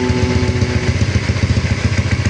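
A motorcycle engine idles during ECU remap tuning at around 1000 rpm, giving a loud, steady, close-up putter with an even pulsing rhythm throughout and no talk.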